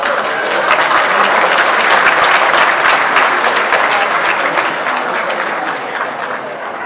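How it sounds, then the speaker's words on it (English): Audience at a banquet applauding, a loud dense wash of many hands clapping, sustained and slowly tapering toward the end, no talk. "please give an applause"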